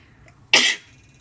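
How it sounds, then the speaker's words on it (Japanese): A single sharp sneeze, close and fairly loud, bursts out once in a short, breathy blast during an outdoor live stream, with quiet background before and after. "くしゃみくしゃみ"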